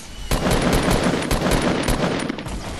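Rapid automatic gunfire in Fortnite as players shoot down a fort, dense and loud bursts that continue steadily for the whole stretch.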